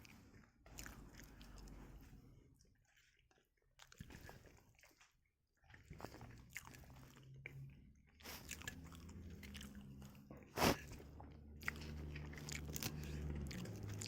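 Close-up crunching and chewing of crisp chips with mustard, with bites at irregular moments and a few sharp crackles, occasional wet mouth sounds, no talking.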